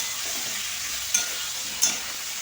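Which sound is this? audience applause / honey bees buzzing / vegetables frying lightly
vegetables frying lightly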